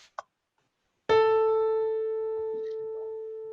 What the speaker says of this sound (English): A in like an orchestra will be tuned to 440 hertz.